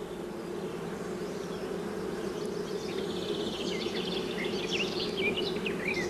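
Honey bees buzz steadily in a dense, continuous drone around a comb lifted from the center of a hive holding a closely packed brood nest, the hum close and constant with faint higher insect whines drifting over it.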